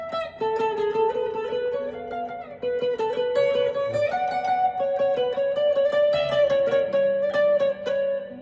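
Electric or acoustic guitar plays the solo from a song, a steady run of clear picked notes with sustained melodic lines, fairly loud and alone without talk.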